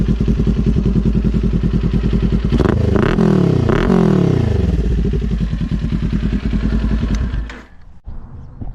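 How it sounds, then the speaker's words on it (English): A Kawasaki Ninja 400 sport motorcycle idles, then revs sharply twice, the pitch rising and falling each time, before the engine shuts off near the end. "I'll give it a couple revs."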